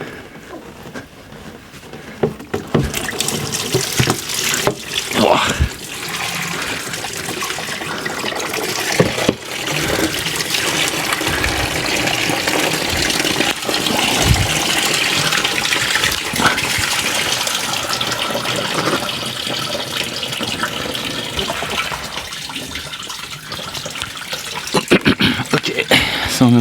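Coolant gushing from a detached radiator hose on a SsangYong Rodius, a loud splashing pour that surges and spatters for a long stretch, with a brief exclamation partway through.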